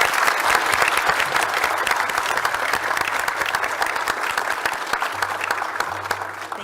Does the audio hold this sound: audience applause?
yes